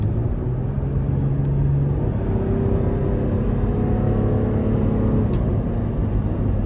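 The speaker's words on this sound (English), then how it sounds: "So with this higher displacement V6, it's certainly very quick for an SUV of this caliber." A 2017 Toyota 4Runner Limited SUV with a 4.0-litre V6 pulls hard under acceleration, its engine a steady low drone and rumble heard from inside the cabin, continuous for several seconds with no talking.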